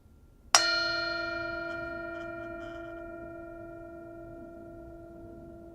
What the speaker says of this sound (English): let go of our thinking and enjoy the bell